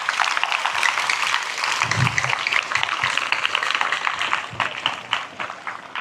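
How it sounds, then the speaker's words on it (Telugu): A crowd of students claps for their teachers, a dense, steady round of applause from many hands that carries on evenly for several seconds without pause. "మీ గురువులకి ఒకసారి మీకు ఈ అవకాశం ఇచ్చినందుకు ఒక్కసారి చప్పట్లు కొట్టండి సార్లకి"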